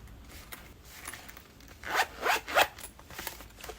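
A few quick pulls of the zipper on a cash binder, close and crisp, come in a short burst after a quiet stretch with faint rustling.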